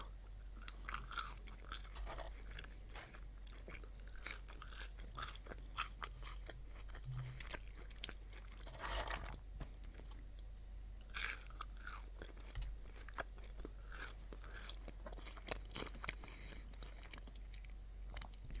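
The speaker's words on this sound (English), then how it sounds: "Start out with a fry or two." Crunchy bites and chewing of slightly soggy, cold McDonald's fries, close and quiet in an ASMR-style recording, with irregular soft crunches and mouth sounds spread across the clip and no talk.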